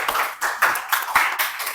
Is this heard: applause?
yes